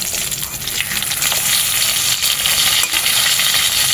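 Fish fries in hot oil in a pan, giving a loud, continuous, gushing sizzle close up that stays steady throughout, with no voices.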